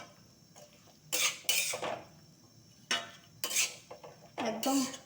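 A spoon scrapes and clanks against a pan on a gas stove in short, loud bursts with pauses between strokes as the food is stirred and mixed, close up.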